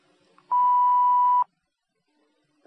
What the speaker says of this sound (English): by leaving a message at the beep